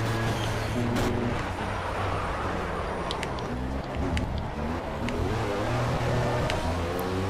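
Audi R18 Le Mans prototype engine in Project Cars on PS4, droning loud and steady throughout with layered harmonic tones that rise and fall slightly as the car is driven.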